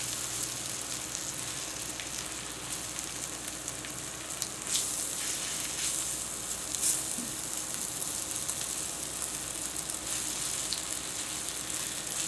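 Lo mein noodles fry in an overcrowded pan, giving a steady, even sizzle and hiss that runs unbroken throughout, with a few faint clicks and stirring sounds on top.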